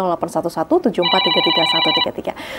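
An incoming call rings on a live television talk show, a steady electronic telephone tone sounding under continuous talk from a presenter.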